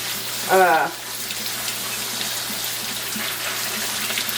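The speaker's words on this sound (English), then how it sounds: "You want to rinse these cactus really good so that they're not gooey" Running water pours steadily over cactus paddles (nopales) in a kitchen sink, a constant broadband hiss with a brief voice near the start and longaniza frying faintly behind.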